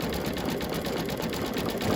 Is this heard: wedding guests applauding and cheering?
no